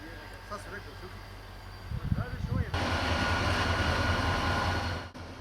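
A train stands at a Croatian station while its locomotive is swapped for a Slovenian one, giving a low steady rumble that swells louder after a couple of seconds, with faint talk in the background.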